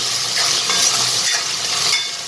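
Potatoes and onions sizzle loudly in a pan for a Gujarati fenugreek-potato dish while being stirred, a dense, close hiss with faint scraping.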